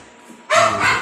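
Puppies barking and yipping at feeding time let out one sudden, close, high-pitched yelp or bark that breaks a near-silent moment and trails off over a fraction of a second.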